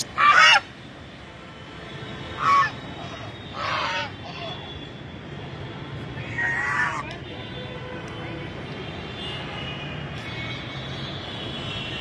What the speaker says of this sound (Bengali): মুখ বাড়িয়ে কা কা কা কা করে সে কি চিৎকার করছে, এই সেই রাজহাঁস